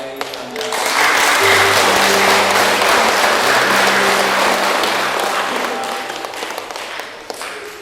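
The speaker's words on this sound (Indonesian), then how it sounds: "Mari kita memberikan aplaus sebagai tanda." Congregation applauding in a church after a Catholic wedding sacrament, a dense, sustained wash of clapping from many hands that swells, holds for several seconds and slowly thins out, with a low hum and faint voices beneath.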